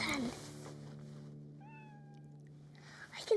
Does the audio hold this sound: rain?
no